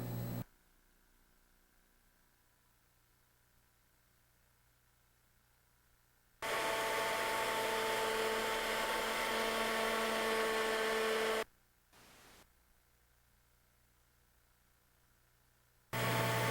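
Ornamental milling machine cutting a dovetail groove in stock held between centers, a steady whirring hiss of cutting running for several seconds, then stopping, with a brief blip and the motor restarting at the end, near and alone.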